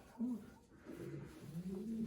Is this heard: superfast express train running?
no